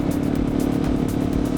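A KTM motorcycle gives off a steady, buzzing, harmonica-like vibrating drone with a faint pulsing flutter, close and continuous without a break, as if from a rattling exhaust.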